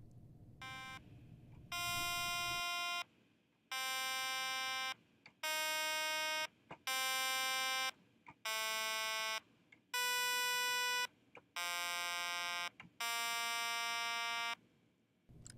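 A one-oscillator saw wave synthesizer built in Max MSP and played from a MIDI controller sounds a series of about nine bright, buzzy sustained notes, each lasting roughly a second, separated by short silences and loud and upfront.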